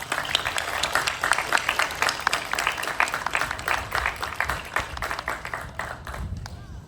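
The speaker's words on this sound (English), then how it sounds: "Please give us a round of applause for our amazing judges." Audience at a county fair king and queen contest applauds the judges with steady, full clapping that fades toward the end, heard alone in a hall.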